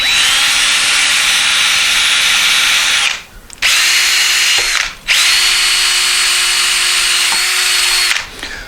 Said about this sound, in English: I also used a wire wheel on the drill.